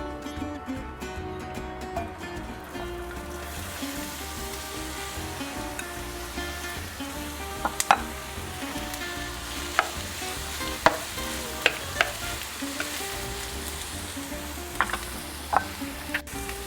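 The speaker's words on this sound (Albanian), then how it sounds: "I shtojmë vaj tani dhe do të skuqim qepën dhe hudrën së bashku." Onion and garlic sizzle loudly in hot oil, a constant crackling hiss broken by sharp pops and the scrape of stirring, with no one talking.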